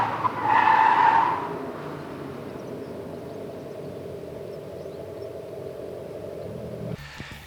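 A 2023 Abarth 500e electric car brakes hard to a stop after a cone slalom and moose-test course, a short loud tire squeal near the start fading into a low steady rolling hum, then an abrupt cut.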